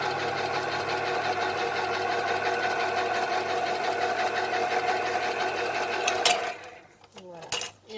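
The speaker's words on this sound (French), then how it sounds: "j'ai un ouvre-boîte électrique, très pratique" An electric can opener whirs steadily with a tight mechanical buzz for several seconds, then stops, followed by brief metallic clicks and clatter of the can.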